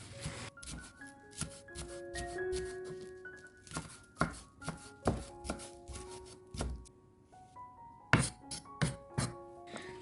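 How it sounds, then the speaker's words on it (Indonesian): A knife slices a spring onion thinly on a cutting board, rapid steady chopping with crisp close taps in quick rhythm and a few brief pauses. "Daun bawang kita pakai 1 batang, kita iris tipis"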